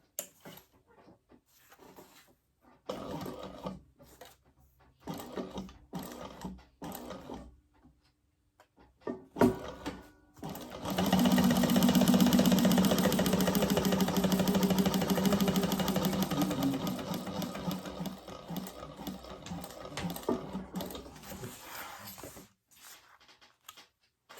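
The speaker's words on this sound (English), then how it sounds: "now I'm going to sew down the line, and we're going to split this pocket in two" A sewing machine stitches a line down a laptop bag pocket to split it in two, with short stop-start bursts of stitching, then a long continuous hum of rapid stitching before it slows and stops.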